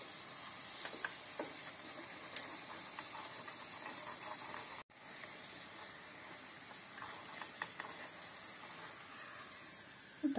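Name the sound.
Tatar urama pastry frying in hot oil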